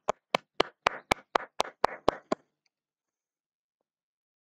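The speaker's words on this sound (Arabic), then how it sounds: "صفقوا عليه" Brief round of hand clapping from a small classroom audience after a student's physics presentation, about ten distinct claps in a quick steady rhythm, close and clear, then silence.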